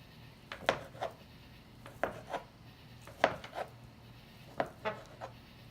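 A knife cuts Russian salad ingredients on a cutting board in sharp, close taps, about a dozen irregular chops in small clusters with short pauses between them.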